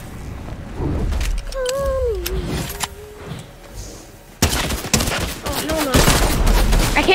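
Video game gunfire: bursts of shots crack among game sounds and a rising, falling tone, then a denser volley of rapid firing in the second half, loud and close, with some voices mixed in.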